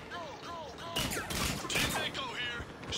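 Gunfire rings out in the video game Mass Effect 3, a couple of sharp, echoing shots and crackling bursts over chirpy electronic sounds, with a voice speaking underneath.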